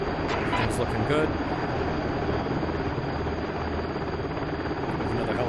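A simulated Pave Hawk helicopter flies over water toward Cyprus in the DCS combat flight game, its rotor and turbine making a steady, loud drone from start to finish.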